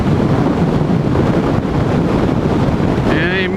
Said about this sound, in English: It's windy again. Very, very windy.